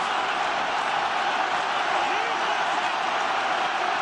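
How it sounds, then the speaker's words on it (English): A stadium crowd roaring during an Ireland versus New Zealand rugby match, a dense, sustained wall of cheering at full volume with no breaks, with commentary voices faintly mixed in. "Crowd absolutely roaring."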